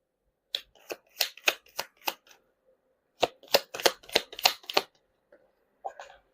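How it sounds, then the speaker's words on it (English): Tarot cards shuffled briskly in quick rhythmic bursts of crisp riffles, two clusters separated by a short pause, ending in a couple of isolated slaps as cards fly out of the deck. "Ooh, cards are flying out."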